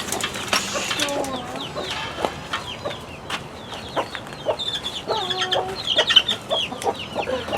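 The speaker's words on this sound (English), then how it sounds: "we're seeing how the mama and the babies are gonna do with the flock." A mother hen and her chicks among a backyard chicken flock cluck and cheep nearby, a lively overlapping run of short clucks and high peeps with occasional louder calls.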